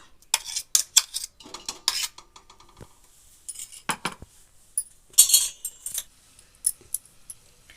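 A spice paste for homemade hair oil is stirred into oil in a metal pan, giving intermittent close scraping and bright clinks of spoon against pan in short bursts with quiet gaps and no speech.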